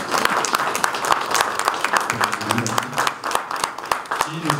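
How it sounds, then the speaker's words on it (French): An audience applauds at an event in France's National Assembly, steady dense clapping from a room full of people, fairly loud and sustained, with speech heard beneath it. "Vous pouvez applaudir s'il vous plaît"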